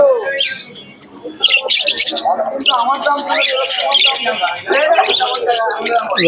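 Loud, dense chorus of birds, including pigeons, squawking and chirping at close range at a bird market, overlapping calls with people talking faintly underneath.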